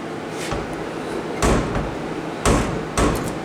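An AMC Gremlin car door being worked on after fitting new door pins: several solid thuds as the door is pushed toward shut, a couple of louder impacts near the middle and end over steady background noise.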